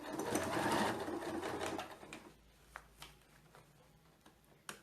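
Sewing machine backstitching over a thick seam while making a bag, a loud, fast rattling run of stitches that slows and gives way to a few scattered ticks and clicks.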